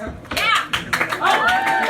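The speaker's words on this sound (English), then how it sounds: "Give her a big round of applause." Clapping from the audience at a live storytelling game show at a comedy club, heard in scattered bursts with a host's voice talking over it for much of the time.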